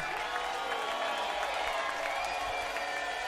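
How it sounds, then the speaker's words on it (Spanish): An audience at a Monolink show at Cova Santa in Ibiza bursts into sustained applause with scattered cheers, a dense, even wash of clapping from a crowd, while a voice talks over it. "Fantástico ovación para Monolink"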